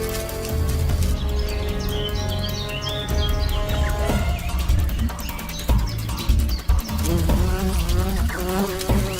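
A bee locked in a fight with an ant in a wild forest, with loud close buzzing wingbeats that rise, break off and resume in erratic bursts over a low rumbling background, with faint bird calls.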